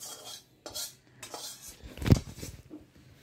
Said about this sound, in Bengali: এই আমি কড়াই থেকে বাটিতে শিফট করিয়ে দিলাম